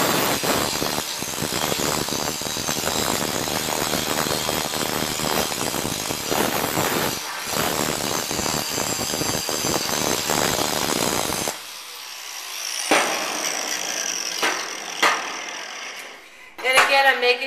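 A grinder works heavy oxidation and burrs off a metal piece with a loud, continuous abrasive rasp in rhythmic strokes. Partway through it thins into lighter, scattered scraping.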